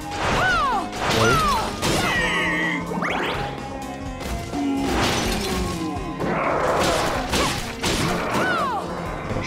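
Shards of something breakable fall and shatter in Bloodstained: Ritual of the Night, a run of loud crashes and smashes mixed with swooshing game effects, no talk over them.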